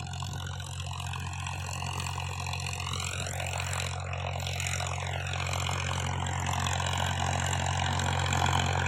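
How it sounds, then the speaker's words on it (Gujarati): A tractor engine idles nearby on a farm, holding a steady, low, throbbing rumble with a constant hum that stays even throughout. "ટ્રેક્ટર તો આવી ગયું"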